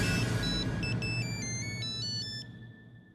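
A mobile ringtone plays a repeating electronic melody of bright tones on an outgoing call, then cuts off, leaving only a faint hum.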